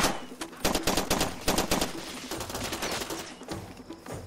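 Heavy gunfire in Far Cry 2, rapid loud bursts of automatic shots in clustered volleys, close and dense, continuing unbroken across the whole stretch with no talking.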